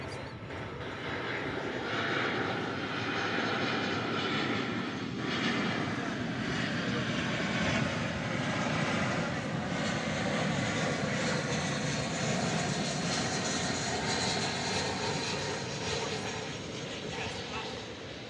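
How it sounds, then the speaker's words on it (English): Airbus A319 jetliner, built in 2000, at Dallas/Fort Worth International Airport: a steady, broad engine roar holds for the whole stretch with no break. Talk runs over it and briefly goes quiet. "Here's the flight from Cedar Rapids. An Airbus A319."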